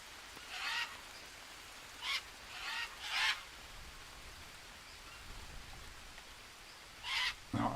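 Bird calls in the jungle survival game Green Hell, several short honking cries in separate bursts over a steady rain-like ambient hiss, fairly faint and with no talking.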